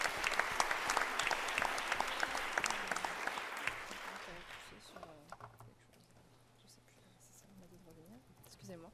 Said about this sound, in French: Donc voilà, vous pouvez l'applaudir également.